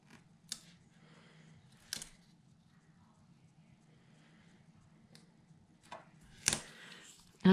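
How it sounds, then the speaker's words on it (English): Sharp craft scissors snip paper for a rose gold and butterflies papercraft project, giving a few brief crisp cuts spaced apart over a low steady hum, close and fairly quiet. "These scissors are very sharp"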